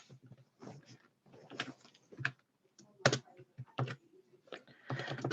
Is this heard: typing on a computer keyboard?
yes